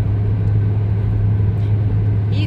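A car driving along a narrow country road in Ivanovo region, with a constant low engine rumble and road noise, close and steady throughout.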